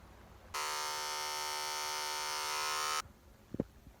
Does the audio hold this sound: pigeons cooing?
no